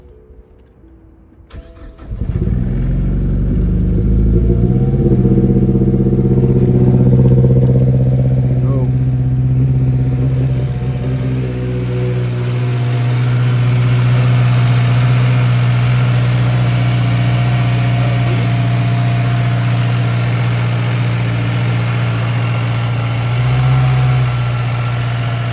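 A car engine cranks and catches, then settles into a steady, loud idle with a slight rise in revs partway through, freshly fitted with a VVT solenoid, valve cover and 8th port and running a base map, wastegate not yet connected.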